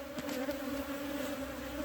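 Honeybees buzz steadily at an open beehive during an inspection, a dense close hum that holds evenly throughout, with faint handling noises and no talking.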